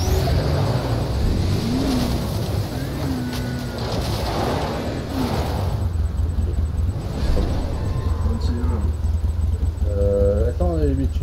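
Car engine revving in the zombie game Dying Light, a steady low rumble with rising and falling tones running throughout, loud and continuous, with a voice talking over it.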